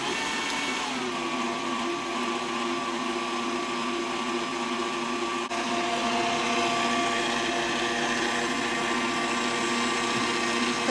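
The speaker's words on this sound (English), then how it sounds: "And you're going to start mixing." An electric stand mixer with its bowl locked in place runs at a steady, continuous motor whine with a constant hum, even and unbroken throughout, its pitch and loudness stepping up slightly partway through.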